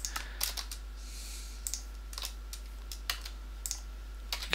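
Computer keyboard typing during a Minecraft session: scattered clusters of quick key clicks, close and fairly faint, separated by short pauses over a low steady hum.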